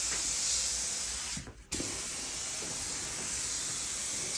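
Continuous hiss of an aerosol lacquer spray can coating driftwood and hardwood, close and steady, with a brief pause in the middle before the spraying resumes.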